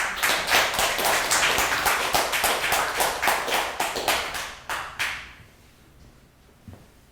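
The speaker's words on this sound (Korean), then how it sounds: "여러분 힘찬 박수로 모셔주십시오." An audience at a Korean academic colloquium applauds in a burst of sharp, closely spaced claps. The clapping stays lively for about five seconds, then dies away into near silence.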